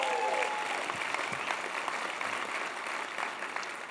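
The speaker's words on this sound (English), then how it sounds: "Let's give him a round of applause." Steady, dense audience applause at a tech conference opening keynote, a broad wash of many hands clapping continuously from start to finish at moderate loudness, with a faint voice briefly audible early on.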